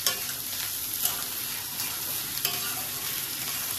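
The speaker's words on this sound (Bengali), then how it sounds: "এটাকে ভালো করে ফ্রাই করতে হবে" Bar-B-Q chili sausages fry in a pan under a bright, continuous hiss of sizzling oil, with a few spatula scrapes and knocks as they are stirred.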